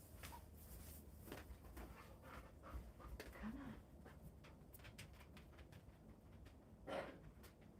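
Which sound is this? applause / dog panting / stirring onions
dog panting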